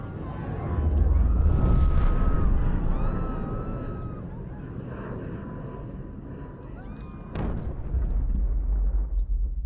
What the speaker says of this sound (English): Then you see this awesome scene of a plane coming in and crashing.